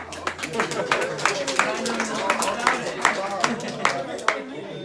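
Audience applause fills the room at a live money and property deal seminar, a steady patter of many hands clapping at close range with a voice talking over it.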